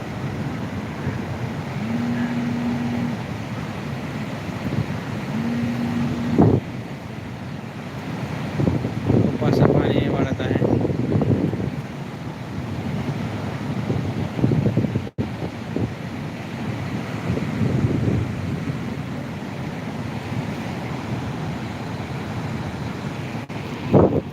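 The flooded Manjara river rushes past as a broad, continuous roar of heavy water mixed with wind buffeting the microphone, rising in strength around the middle, and a voice speaks over it at times.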